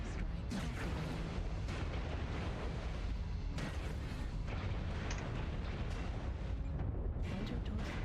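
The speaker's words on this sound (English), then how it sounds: "Artillery strike activated" Artillery strike in MechWarrior Online, a continuous barrage of loud rumbling explosions and sharp bursts that pounds on without pause, dense and close throughout.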